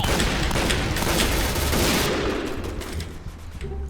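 Rapid bursts of video game gunfire in Point Blank crackle densely and loudly, thinning toward the end as the shots become more spaced out.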